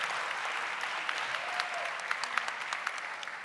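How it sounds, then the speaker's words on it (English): An audience at an opioid response summit applauds, with sustained, dense clapping from a sizable crowd and a few sharper claps standing out near the end. "So big round of applause for our AdCare team everywhere."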